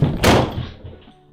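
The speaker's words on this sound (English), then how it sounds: "Footsteps sprinting up the stairs straight towards him." Ghostly footsteps thud rapidly up a staircase: a loud cluster of heavy thumps up close, then several softer knocks trailing off, with no voices.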